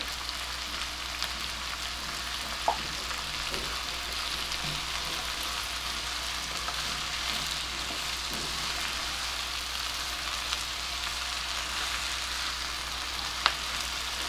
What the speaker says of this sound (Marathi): आणि मी गॅस मोठा केलाय आणि आता हे छान परतून घेऊ